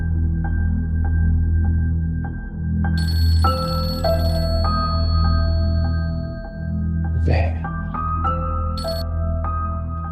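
A telephone rings indoors in a television drama scene, its repeated electronic ring tones sounding over a steady low hum and soft background music.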